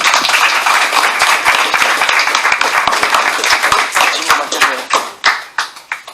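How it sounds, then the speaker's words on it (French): An audience at a public campaign meeting applauds General Bertrand Soublé. The close, lively clapping is full at first, then thins to scattered individual claps toward the end. "On peut l'applaudir."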